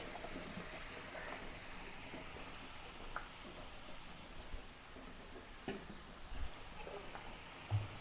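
Ridge gourd frying in a pan while being stirred, a soft steady sizzle with scattered scrapes and clicks from the spoon, close and fairly quiet with no talking.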